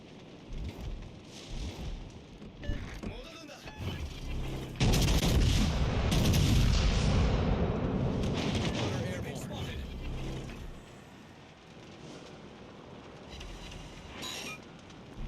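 Warship guns firing in World of Warships Legends, with heavy booming salvos and a sustained loud roar in the middle and scattered thuds around it.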